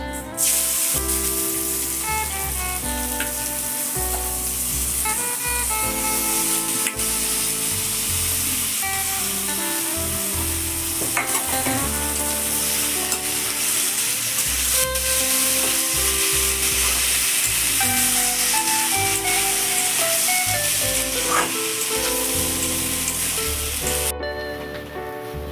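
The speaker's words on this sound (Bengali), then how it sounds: "চালটা আমার ভাজা হয়ে গেছে" Rice frying in ghee in a kadai sizzles steadily and loudly throughout, with occasional stirring scrapes and clinks over a constant hiss.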